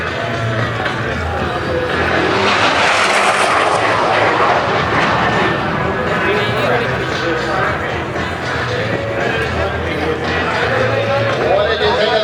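A T-33 jet with a larger Rolls-Royce engine roars past at an airshow, a loud continuous rushing thunder that swells and holds throughout while an announcer talks over it.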